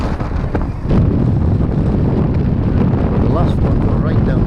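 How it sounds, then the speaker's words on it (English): Strong wind buffeting the microphone on a sea fishing jetty in North East England, a loud continuous low roar and rumble that swells after the first second and stays constant throughout. "That wind's getting a bit now though"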